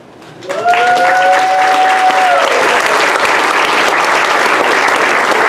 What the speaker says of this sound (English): I would like to give a special applause to my fairy godmother in this room, Beverly McKay